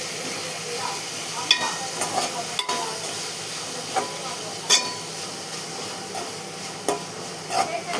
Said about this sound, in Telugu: ఈ నూనెలో కొంచెం ఫ్రై కావాలి.